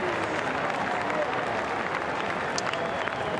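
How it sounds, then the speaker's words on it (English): Traveling Geelong supporters stand and applaud at half-time of an AFL match against Fremantle, a steady wash of distant crowd clapping filling the stadium. "the Geelong supporters that made the trip over stand and applaud"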